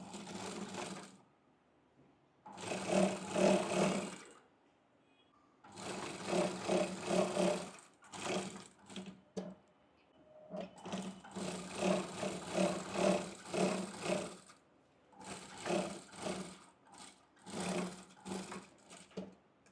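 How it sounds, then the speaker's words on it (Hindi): A sewing machine stitches seams on a woman's shirt in loud, rapid bursts of several seconds each, separated by brief pauses as the fabric is repositioned. "सेम तरीके से हम दूसरी साइड पे भी फिटिंग की सिलाई लगा देंगे"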